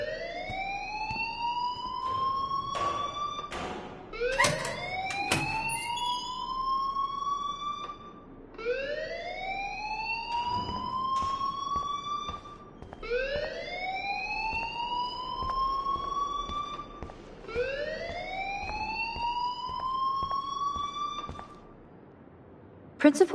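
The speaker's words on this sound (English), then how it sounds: "please turn off that alarm since that's your job" The school alarm in the video game Life is Strange rings as a loud, rising electronic whoop that repeats about five times in steady cycles, with faint talk and scattered clicks underneath.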